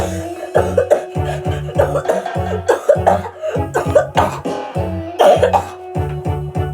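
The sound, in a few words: coughing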